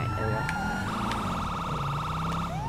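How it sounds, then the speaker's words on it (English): A police car siren in GTA 5 wails in a steady electronic cycle over a low engine hum, loud and close, with game-like synthetic tones. "That's so weird how you turn on the siren, look. Because that turns on sirens."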